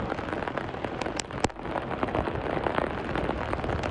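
Heavy monsoon rain pours steadily near a swollen river, a dense, loud hiss of drops drumming on surfaces with a couple of sharper splashes, no voices.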